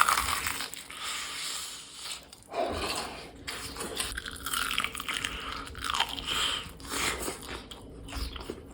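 Steady crackling and sizzling of double-battered fried chicken on its second deep fry in hot oil, continuous and fairly close, with occasional bubbling surges and no talking.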